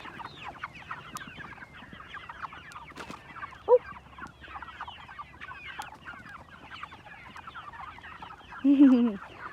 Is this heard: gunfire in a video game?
no